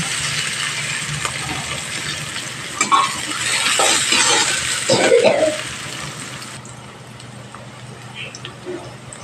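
Chopped onion and chilli are stirred in a pan over a medium gas flame while making aloo chokha, with a low sizzle and intermittent scraping and clinking of the spoon against the pan.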